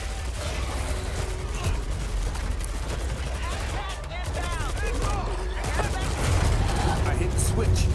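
A manual machine gun turret in the zombie game Badbone Zombie Exterminators fires dense bursts over a noisy backdrop of game effects, with voices talking throughout.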